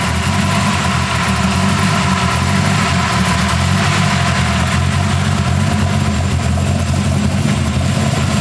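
A car, fresh from a repair with fluids topped up and the starter shimmed, idles steadily close by while backing up in reverse, giving an even low engine hum with no change in pace.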